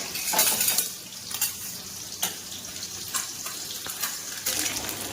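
Eggs frying in a pan for an egg and eggplant curry, a steady close sizzle broken by spatula scrapes and metallic clinks against the pan.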